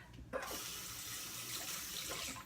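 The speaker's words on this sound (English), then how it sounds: "rinsing off my 1/8 cup again" Water runs steadily from a kitchen tap while a 1/8 measuring cup is rinsed, a continuous close splashing hiss that begins with a brief clatter and stays level to the end.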